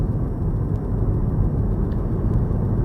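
A BMW i3 electric car drives on a road on Orkney, heard as a steady loud rumble of road and wind noise from inside the cabin, with no engine note and no talking.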